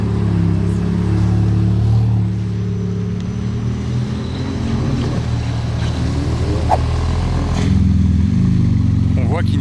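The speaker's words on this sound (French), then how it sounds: "Pas mal le petit convoi. MC20 GT2 RS." A small convoy of sports cars, a Maserati MC20 and a Porsche GT2 RS, drives past on Monaco's Place du Casino, their engines droning loudly with a swell near the end, while voices are heard among them.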